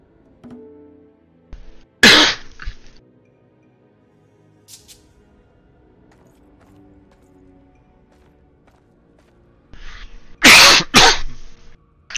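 A person coughing during a French-language playthrough of Operencia: The Stolen Sun, two loud close bursts of coughs separated by long near-silent stretches over faint game sound.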